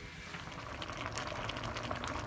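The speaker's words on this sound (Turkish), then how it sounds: "Kabak yemeği ocağın üzerinde kaynamaya başladı." A pot of stuffed zucchini and vine leaves simmers on the stove, giving a steady close bubbling and hissing wash with faint pops, no voices.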